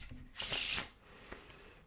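Pharaoh shuffle of a deck of playing cards at a blackjack table: a single close, crisp riffling burst as the halves weave together, then quiet.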